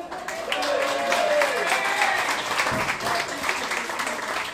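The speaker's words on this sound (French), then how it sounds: "j'attends beaucoup, beaucoup d'applaudissements pour lui" Audience at a French tribute concert applauding an announced performer, a dense, loud patter of clapping with some crowd noise and a voice briefly audible over it.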